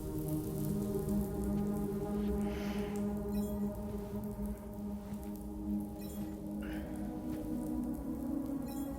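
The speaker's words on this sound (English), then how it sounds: "Those raindrops are falling on my head, they keep falling." Steady rain patters throughout in the video game Death Stranding 2, a constant even hiss of drops with a low background hum and no speech.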